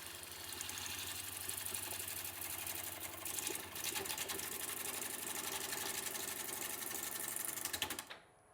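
A wood lathe spins at a little over 700 RPM while rough turning bowl blanks, a steady mechanical hum with repetitive scraping and rattling from the tool cutting the wood, fairly continuous until it stops abruptly near the end.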